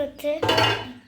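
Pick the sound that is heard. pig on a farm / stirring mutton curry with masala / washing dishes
washing dishes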